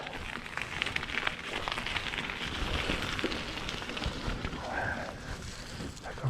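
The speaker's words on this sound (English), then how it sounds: "A little weather creek. And it's raining." Steady rain patters beside a small creek, a soft, even hiss with scattered drops and a faint murmur of wind.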